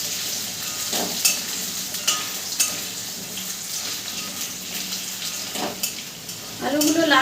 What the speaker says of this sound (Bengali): ওই তেলের মধ্যে দিয়ে দেবো কেটে রাখা আলুগুলোকে। আলুগুলো দিয়েও খুব নেড়ে চেড়ে লাল করে ভেজে নেব।